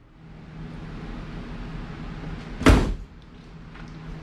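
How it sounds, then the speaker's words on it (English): A single solid thump of a Porsche's bonnet shutting cuts through a low background hum, then the hum continues more quietly. "Now we can close that bonnet and move on."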